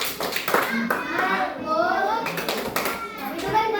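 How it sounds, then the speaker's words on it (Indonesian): Classroom children performing a rhythmic focus clap, a run of sharp hand claps in patterned bursts, mixed with young voices chanting along. "Tepuk fokus."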